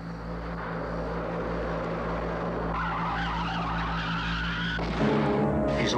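A loud roaring engine with a harsh tire screech and skid building over several seconds, ending in a sudden shift of the noise.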